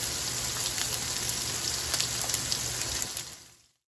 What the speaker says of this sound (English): Now that our steaks are seared